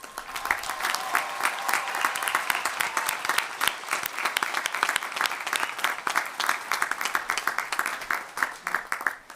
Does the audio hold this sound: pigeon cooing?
no